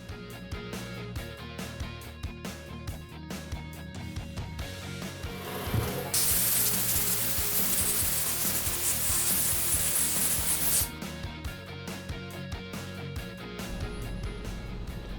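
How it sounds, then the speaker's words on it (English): A vapor blaster cleans a carburetor from a Yamaha DT400B motorcycle, with clattering, rubbing mechanical noise and a loud, sustained spraying hiss through the middle of the clip. "we'll get this in the vapor blaster"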